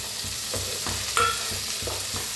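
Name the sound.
tomatoes added to frying onions in pan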